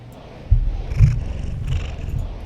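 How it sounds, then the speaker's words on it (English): A cat in the game Railroads Online purrs close by, a low rumbling buzz that swells in a few soft pulses, with nothing else heard. "She's purring and rubbing on you."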